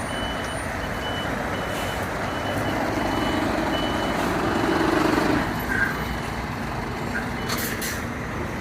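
A truck reverses at a scrapyard where a huge Ruston V8 engine is being salvaged, its backup alarm beeping steadily at a distance under a broad rumble of engine and outdoor noise.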